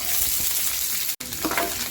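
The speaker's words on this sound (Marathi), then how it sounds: "लगेच टाकते कांदा" Chopped onion dropped into hot tempering oil with cumin seeds and curry leaves sizzles loudly and continuously up close, with one momentary break partway through and no talking.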